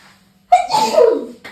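A single sharp sneeze from an adult, a quick intake breath followed by a loud burst, close and alone in a quiet room.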